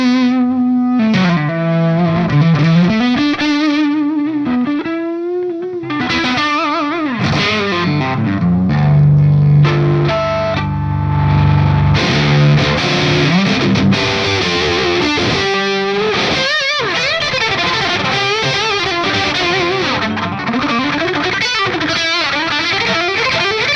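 An electric guitar runs through a Softube Amp Room Plexi amp preset and plays a loud, continuous stretch of distorted rock riffs and sustained chords, rich in overtones, with no voices over it.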